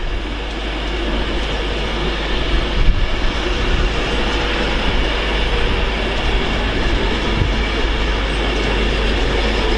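A Class 390 Pendolino electric train departs Stafford station on the West Coast Main Line bound for Liverpool Lime Street, giving a steady loud rolling roar with wheel noise and a brief thump near the start.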